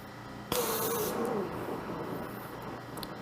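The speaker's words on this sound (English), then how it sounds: "Using a very finely focused flame to try to close up some of the holes." A finely focused glassworking torch flame lets out a steady, loud, broadband hiss that starts abruptly and roars on without a break, a faint tonal whistle wavering through it early on.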